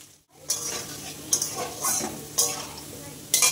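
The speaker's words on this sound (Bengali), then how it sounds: "আলুগুলো আমি একটু ভালো করে ভেজে নিই।" Potatoes fry in a pan with a steady sizzle, broken by several sharp scraping stirs of a utensil against the pan, close and fairly loud.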